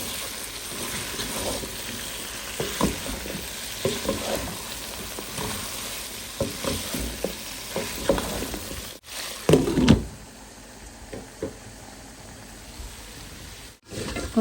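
Bitter gourd frying and being stirred in a pan, a continuous sizzle broken by irregular scrapes and knocks of a utensil, with a louder clatter midway.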